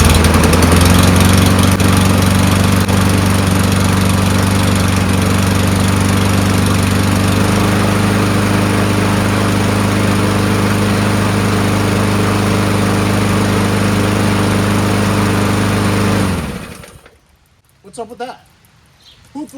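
A Yard Machines push lawn mower with a 139cc Powermore engine runs at a steady loud drone, then cuts off abruptly near the end, leaving faint rustling and a brief voice.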